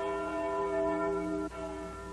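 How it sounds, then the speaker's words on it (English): Cartoon church bells ring out in a sustained, bright metallic tone with long overlapping harmonics, briefly dipping and then continuing, with no talk over it. "The bells are ringing"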